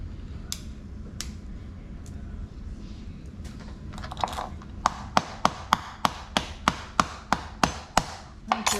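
A hammer cracks the shells of cooked blue crabs while the meat is picked out. It starts with a few scattered taps, then turns into a quick, regular series of sharp, close knocks.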